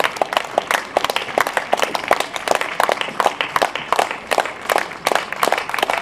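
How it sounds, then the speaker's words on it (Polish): Audience applause fills a concert hall at a music festival finale, with irregular claps at moderate loudness and no speech. "Są brawa"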